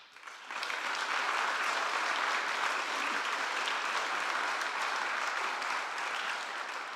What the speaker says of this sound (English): we can give you a little round of applause